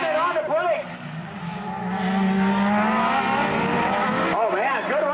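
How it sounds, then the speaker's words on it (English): A race car brakes hard into a turn at Tosa Raceway Park, its loud engine note falling and rising through downshifts, while a commentator talks over it. "Standing on the brakes."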